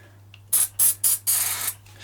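Starting spray from an aerosol can squirted into a Dolmar 100 chainsaw in four short hissing bursts, the last one longest, close and loud over a low steady hum.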